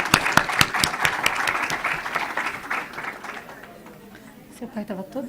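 At an autism accessibility forum in a legislative assembly, an audience claps for journalist Paiva Júnior. Crisp, rhythmic applause fills the first few seconds, then fades into quieter room noise and voices.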